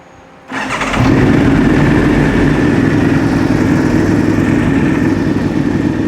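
An Aprilia RSV4 racing motorcycle fires up and settles into a loud, high, steady idle, the engine roaring close and continuous after a brief quiet start.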